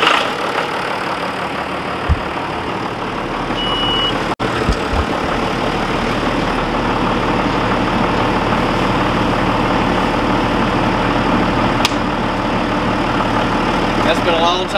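A John Deere 7200 tractor engine runs steadily at a loud idle for the whole stretch, with a few sharp clicks and knocks, and voices speak over it at times.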